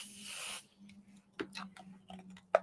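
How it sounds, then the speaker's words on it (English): A spray bottle gives a soft hissing spritz onto plush fabric for a sewn Buddy Bear teddy, a single short burst heard close up, followed by faint handling clicks over a low background hum. "I'll give it a little spritz"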